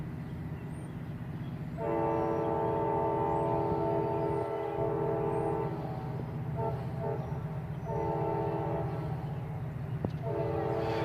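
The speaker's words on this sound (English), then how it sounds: "He's honking his horn a lot here." A train led by a GP30 road slug honks its horn repeatedly: one long blast, then several shorter, broken blasts over a continuous low rumble of the passing train.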